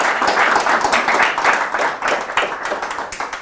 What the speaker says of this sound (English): Please, guys, give us like a big applause to our wonderful panelists.